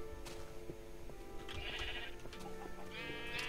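Sheep in the game Minecraft bleat a few times over a low steady background, short wavering calls spaced apart at moderate distance, with no talking.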